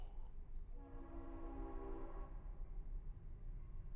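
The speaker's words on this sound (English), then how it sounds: "Sorry about the train, you guys." A train horn sounds in a sustained, harmonic blast at moderate distance over the low rumble of a passing train, the horn holding for about two seconds before fading into continuing rail noise.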